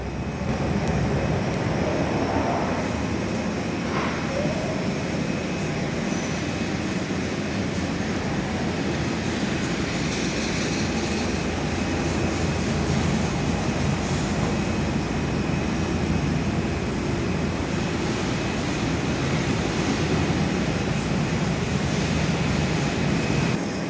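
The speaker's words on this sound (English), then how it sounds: "We've got an Airbus A320 just about to land at Perth." A Qantas Airbus A320 on approach to land at Perth airport, heard from an indoor viewing platform as a steady, continuous broadband jet roar that stays loud and even throughout with no talking.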